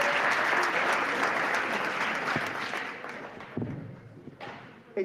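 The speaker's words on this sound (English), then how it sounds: "So a round of applause to yourself also." Workshop audience of students at a Sunday maths session clapping, a dense sustained round of applause that thins and fades toward the end.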